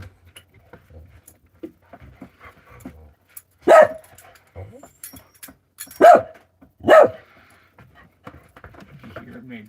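A dog barks three loud, sharp times with quiet gaps between, amid faint household rustles and low voices.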